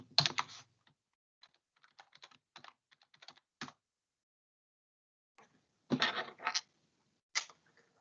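Typing on a computer keyboard during a software development lesson: scattered quiet key clicks and short bursts of rapid keystrokes with pauses between them, close and fairly soft.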